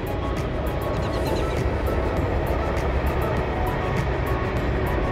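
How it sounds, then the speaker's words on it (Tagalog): Near Stanwood cemetery near Seattle, a long train rumbles past with a continuous loud roar and rhythmic clatter of wheels throughout. "Sakto dumaan yung train."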